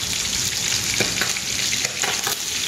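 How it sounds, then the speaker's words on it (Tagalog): Fish frying in a pan after being simmered in vinegar first, a loud, steady close-up sizzle and crackle with a few sharper pops throughout and no talking. "Tapos, iprito ko na siya lahat-lahat."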